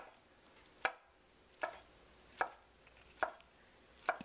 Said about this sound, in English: And then we are going to cut this into very thin strips